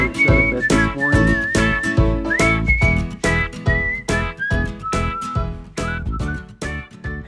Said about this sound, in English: you will be whistling this song